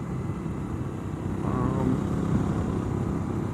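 Suzuki V-Strom 1000 motorcycle riding along a road through burned, post-wildfire country, its engine a steady low drone mixed with wind rush that swells slightly midway, with no talking.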